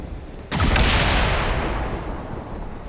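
A single heavy gunshot at a target in the XCOM 2 video game, a loud sharp crack with a booming low thump that decays over about two seconds.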